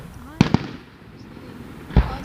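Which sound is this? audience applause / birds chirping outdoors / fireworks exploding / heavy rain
fireworks exploding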